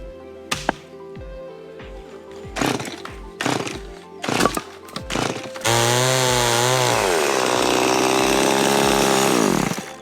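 A small hand saw working through soaked oak wood: a few sharp, irregular strokes and knocks at first, then a sustained, whining power-saw cut with strong harmonic tone that bends in pitch, loud and close with no talk.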